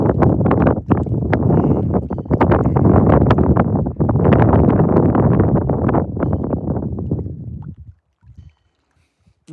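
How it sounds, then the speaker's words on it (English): Strong wind gusting over a microphone outdoors beside a river while trout fishing, loud rumbling buffets that rise and fall before cutting out near the end. "The wind is starting to pick up a little more."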